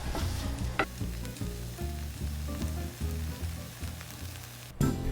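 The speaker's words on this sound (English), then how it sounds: "we're gonna add our Brussels sprouts and a little bit more olive oil if you need to. We're gonna saute this for about 3 more minutes." Brussels sprouts sauté in olive oil in a pan, a steady close sizzle running throughout with occasional stirring clatter and a louder scrape near the end.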